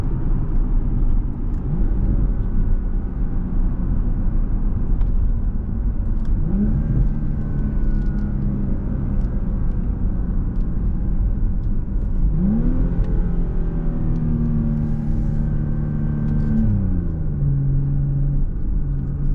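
A 2024 Porsche Panamera 4S engine drones steadily from inside the cabin while driving, its pitch rising and falling through several gear changes with a deep, throaty rumble.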